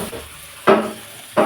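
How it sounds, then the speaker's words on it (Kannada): Onions and tomatoes fry in a pan with a soft steady sizzle, broken by two sharp scraping stirs of a spoon against the metal, close and clear with no talk. "ಈರುಳ್ಳಿ, ಟೊಮಾಟೊ ಫ್ರೈ ಮಾಡ್ಕೊಳ್ಳೋಣ"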